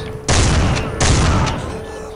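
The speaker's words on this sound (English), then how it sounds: "Oh, this shotgun is actually doing me right." Two heavy, loud shotgun blasts from Soldier of Fortune 2, about three-quarters of a second apart, each a broad burst of noise with a longer decaying tail.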